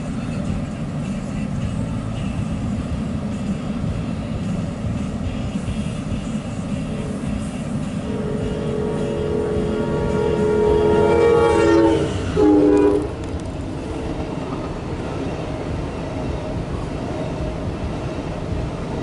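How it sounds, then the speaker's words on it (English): Eastbound Amtrak PO30 passenger train rumbles past with a loud continuous roar, its horn sounding a long blast that swells and then cuts off sharply. "Amtrak PO30 eastbound"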